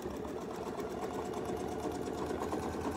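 A sewing machine stitching a quilt, its fast steady needle chatter and motor hum running continuously and close up with no pauses and no voices.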